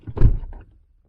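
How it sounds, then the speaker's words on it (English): A car door shuts once with a short, solid thump that fades within a second, on a car with a battery drain fault from its alarm system. "Close the door."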